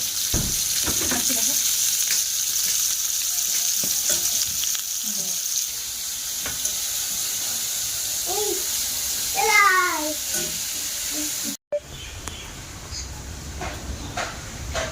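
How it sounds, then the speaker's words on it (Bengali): Pointed gourd (potol) slices and small potatoes fry in a pan of hot oil, giving a steady close sizzle with occasional stirring clinks and a brief voice in the background. "রান্না করছি ছোট আলু মানে গুঁড়া আলু ভাজা আর পটল ভাজা"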